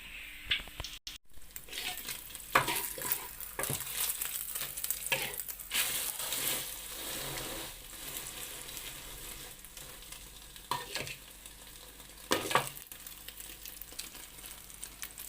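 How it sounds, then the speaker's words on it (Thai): Glass noodle omelette sizzling and frying in a pan, with repeated scraping and clattering strokes of a spatula stirring it, steady close sizzle underneath. "ใส่ลงไปในกระทะ การทำผัดทำทอดควรใช้ตะหลิวนะครับ"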